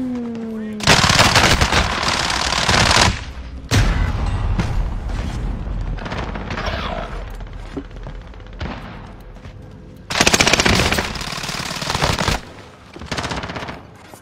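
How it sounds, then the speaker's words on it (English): Bursts of Call of Duty: Warzone gunfire ring out in loud, dense volleys, with a long stretch of rapid firing, a quieter gap and then another heavy burst, with talk mixed in. "I'm getting shot at."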